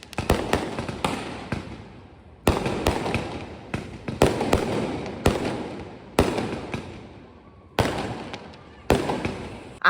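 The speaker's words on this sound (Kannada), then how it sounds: "ಆಚೆ ಕಡೆ ಎಲ್ಲರೂ ಪಟಾಕಿ ಹಂಚಿಸಿದರೆ, ದೀಪಾವಳಿನ ಸಖತ್ ಗ್ರ್ಯಾಂಡಾಗಿ ಸೆಲೆಬ್ರೇಟ್ ಮಾಡ್ತಿದ್ದಾರೆ" Deepawali firecrackers bursting outdoors around a home, a string of sharp bangs every second or so, each trailing off in a crackling, echoing decay, heard from a short distance.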